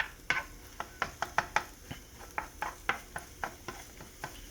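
Seasoned eggs being cooked in a pan for Chinese fried rice, a low sizzle beneath a steady run of sharp spatula taps and scrapes against the pan, close up.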